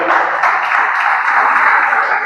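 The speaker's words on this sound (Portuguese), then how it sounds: "Que você possa aplaudir ao Senhor" Congregation applauding in church, a loud, dense, unbroken wash of many hands clapping together at close range, with a voice faintly mixed in.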